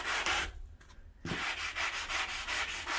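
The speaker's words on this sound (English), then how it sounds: "sand some of that down so it's flat." Rhythmic back-and-forth rasping of a sanding pad on filler on a hard surface, close by, with a short pause before the scrubbing strokes resume.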